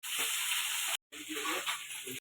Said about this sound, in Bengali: মাছটা দিয়ে হলুদ লবণ মেখে মাছটা ভেজে নিচ্ছি